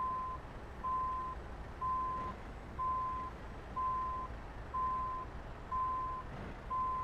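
Truck reversing a trailer in the video game Euro Truck Simulator 2, with a steady series of evenly spaced reversing beeps, about eight, over a low engine hum.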